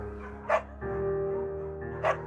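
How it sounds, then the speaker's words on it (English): A dog in the Firewatch adventure game gives two short, sharp barks about one and a half seconds apart over a steady background hum, with no speech. "Bucket's a good dog"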